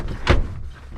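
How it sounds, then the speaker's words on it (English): The cabin door of a small airplane being pulled shut, heard as a single short, close thud with a brief rattle and nothing else around it. "Close the door."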